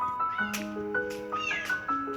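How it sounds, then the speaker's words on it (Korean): A stray cat sitting on a house wall meows repeatedly, several close, clear cries in quick succession with rising and falling pitch. "우리 집 담벼락에 앉아 울기 시작한 길고양이"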